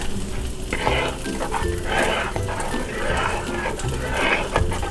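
A spoon stirs heavy whipping cream into blended tomato soup in a pot, making close, continuous wet swishing and scraping with a bubbling, sizzling texture throughout.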